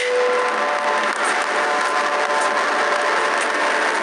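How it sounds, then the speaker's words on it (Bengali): A train runs along the track with a loud, steady rolling roar and a faint tonal whine. It is close and unbroken throughout, with no voices. "আমি এটা বলতে চাই না, কিন্তু ট্রেনটা জোরে চালাও"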